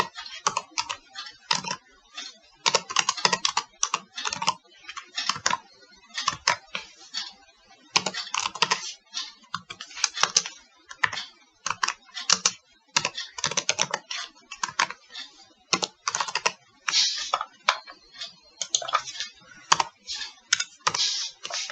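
Steady typing on a computer keyboard while writing Dart code, keys clattering close up in rapid irregular bursts with brief pauses, no voice over it.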